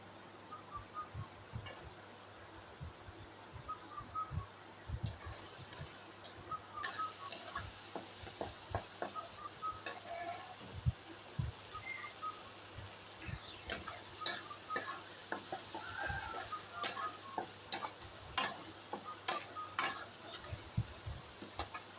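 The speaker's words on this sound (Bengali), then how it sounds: "তো এখন আমি চিংড়ি মাছগুলোকে আমি ভালো করে কষিয়ে নিব।" Prawns stir-fried in a pan, with irregular scraping strokes of a spatula and soft clatter over a faint, steady sizzle throughout, close and fairly quiet.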